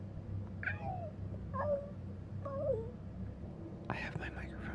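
A person imitates a cat with quiet, soft meows, three short mewing calls in a row close to the microphone, followed by a brief breathy whisper.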